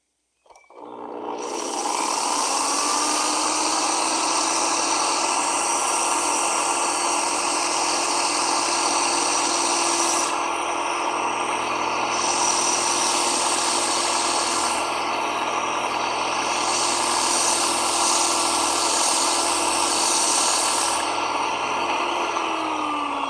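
A power sander runs over wood with 100 grit sandpaper, a loud continuous whirring drone with a gritty rasp that starts abruptly and holds steady, shifting slightly in texture as the pressure changes, with no talking.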